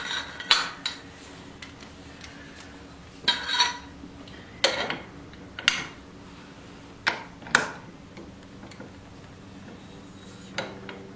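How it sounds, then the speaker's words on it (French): A ratchet fitted with a 24 mm socket works at a scooter's clutch nut, giving about eight separate metallic clanks and clicks spaced a second or so apart, close and fairly sharp over a faint background hum, with no talking. "Nous allons donc desserrer cet écrou."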